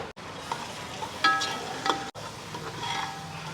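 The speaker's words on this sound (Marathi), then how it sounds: "आता हे मसाला भाजले साईडला बघा तेल सुटले" An onion-tomato masala paste with ginger-garlic paste fries in oil, giving a steady close sizzle with brief scraping stirs.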